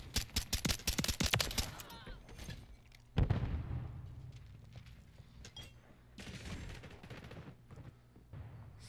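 Rapid pistol fire from the Daemon handgun in Modern Warfare 3, a quick burst of sharp shots up front followed by heavier booms and a busy battlefield wash, loud and close with no talking.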